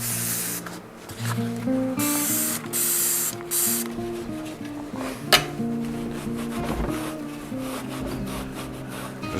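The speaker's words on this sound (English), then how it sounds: "I'm gonna hit everything with Dawn Power Wash" Dawn Power Wash spray bursts onto a dirty Trek 820 bicycle in repeated close pumps of hissing mist, with rubbing and creaking handling sounds and some clunks between sprays.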